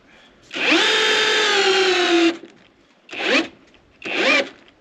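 A Ryobi power drill driving big bolts in an off-grid outdoor kitchen build, one long whining run of about two seconds followed by two shorter bursts, close and loud with no talk.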